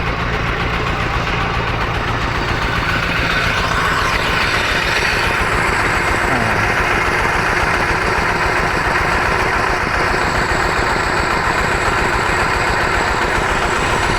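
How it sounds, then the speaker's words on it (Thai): A modified diesel engine on a DIY tractor water pump runs continuously nearby, loud and steady with a low knocking throb that never lets up. "เครื่องยนต์ดัดแปลง เป็นเครื่องยนต์ดีเซลครับ"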